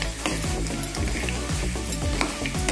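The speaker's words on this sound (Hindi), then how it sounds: "अब इसी में हम डाल देंगे बड़ी और आलू और इनको अच्छे से फ्राई कर लेंगे" Potatoes and urad dal vadi frying in spices in a pan, a dense, continuous sizzle broken by repeated scraping strokes of a spoon stirring close up.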